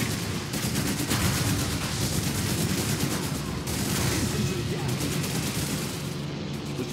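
Sustained battlefield gunfire in the WWII strategy game Blitzkrieg 3, a dense rattle of shots and distant booms running steadily for the whole stretch with no voices over it.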